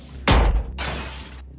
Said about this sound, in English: the Andron's probably just smashing up everything inside the ship by the sound of that